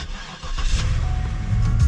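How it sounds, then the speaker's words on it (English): A Cadillac DTS V8 cranks and fires up, settling into a steady low rumble that builds slightly louder toward the end, heard from inside the car with no talking. "And listen to that wonderful V8."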